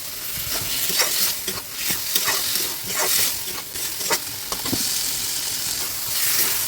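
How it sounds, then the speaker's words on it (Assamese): Boiled papaya fries in a pan while being stirred, a continuous close hiss and sizzle broken by repeated scraping strokes of the spoon, with no talking. "এতিয়া অমিতা দি আৰু মই 5 মিনিট সময় ধুনীয়াকৈ ভাজিব লাগিব"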